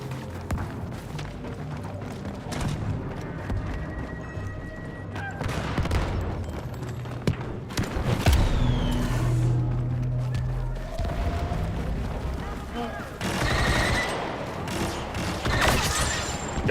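Gunfire in a shooter video game: bursts of rapid shots and heavier booms come in clusters over the whole stretch, fairly loud, with thuds between volleys and people talking over parts of the action.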